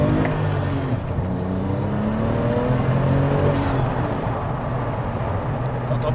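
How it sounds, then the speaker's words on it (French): A Porsche 996 GT2 with a twin-turbo engine accelerates hard, heard from inside as a loud, close rising engine roar with climbing harmonic tones and turbo whir, continuous over several seconds. "On entend super bien les turbos."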